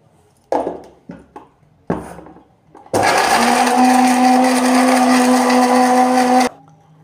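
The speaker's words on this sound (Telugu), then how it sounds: "కొబ్బరి వేసి ముందు పట్టుకుందామండి మిక్సీ" A kitchen mixer grinder grinds coconut in one loud, steady whir lasting about three and a half seconds, after a few short knocks and clatters as the jar is set up.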